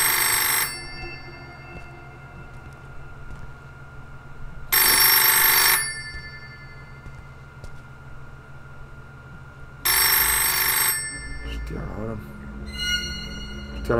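A telephone ringing in the horror video game Midnight: Submersion Nightmare, three loud electronic ring bursts spaced several seconds apart over a low ambient hum, with a faint voice near the end.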